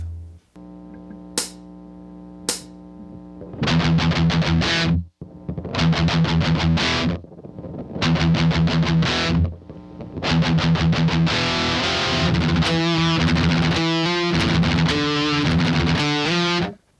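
Heavily distorted electric guitar plays a pedal tone riff in E, with quick chugging E5 power-chord bursts separated by short pauses, loud and dense throughout, with no voice.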